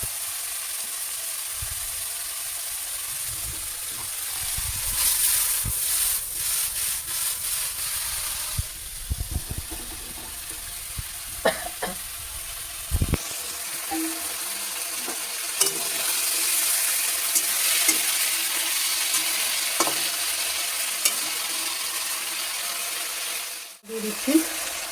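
Fish and vegetables sizzle steadily in a pan while a utensil scrapes and clatters through them in bursts, with a faint voice now and then.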